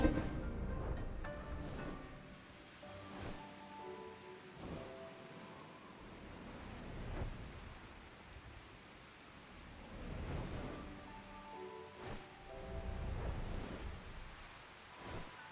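Steady rain from a Final Fantasy XIV: Stormblood game scene near Monzen, a soft continuous hiss with low rumbling swells rising and falling, moderately faint, with music-like tones faintly beneath and no talk.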